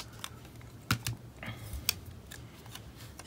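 Scissors snipping paper for a bullet journal, a few soft, sparse cuts and rustles at close range in a quiet room.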